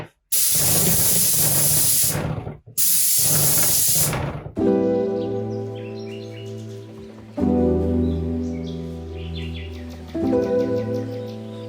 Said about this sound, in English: Brett went to town in here with the paint sprayer yesterday.